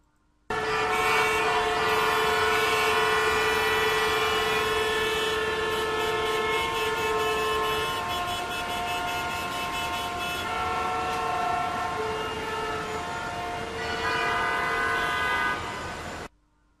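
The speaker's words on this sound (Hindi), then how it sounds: "ये तमाम गाड़ियां अपनी जगह पर खड़ी थीं, बिल्कुल साकित थीं, मोशन में नहीं थीं और इनके हॉर्न की आवाज़ हमें सुनाई दी" Several horns of stationary vehicles in a traffic jam blare together in one long, loud, continuous chorus, holding steady before cutting off abruptly.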